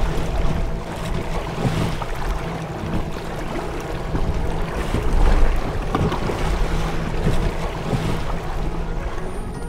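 A small motor boat pitches through choppy waves on Lake Balaton, with continuous loud wind buffeting, water slapping against the hull and a low engine rumble beneath, all close and unbroken.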